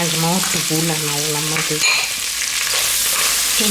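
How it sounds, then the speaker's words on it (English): Chicken hearts and gizzards brown with spices in a pot, sizzling and frying steadily throughout, with a humming tonal drone early on before a sharp clatter, then continuous hissing. "then we're just gonna brown all this together"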